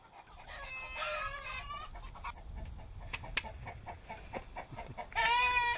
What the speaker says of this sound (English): I've just had a little flock of chickens all my life.